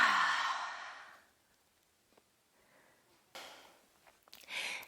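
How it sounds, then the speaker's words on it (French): A long, audible exhale through the mouth during a yoga breathing exercise, loud and close at first and then fading, followed by a pause and further breath sounds, with no speech. "Expire par la bouche."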